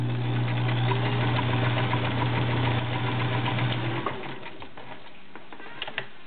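A vintage Kenmore model 1703 sewing machine in mint condition runs with a steady mechanical hum and whir for about four seconds, then stops, leaving faint clicks and handling noises.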